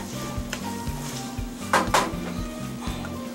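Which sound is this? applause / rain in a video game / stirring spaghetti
stirring spaghetti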